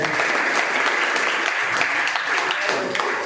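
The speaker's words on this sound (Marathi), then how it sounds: "आपण सगळ्यांनाच एकदा टाळ्या वाजवून अभिनंदन करूया." An audience at a competition gathering claps in congratulation, a dense, even burst of applause from many hands that carries on steadily without pause.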